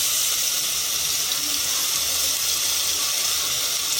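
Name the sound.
pea paste added to hot oil, sizzling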